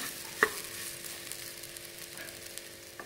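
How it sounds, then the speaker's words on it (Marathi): Khapli wheat roasts in ghee, giving a soft, constant sizzle and occasional light scrapes and taps as it is stirred in the pan. "1-5 मिनिट आपण गहू चांगले भाजून घेऊया।"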